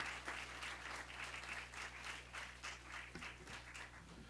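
Applause for graduating students at a board of education meeting, a faint, distant, steady patter of clapping from the room that continues throughout.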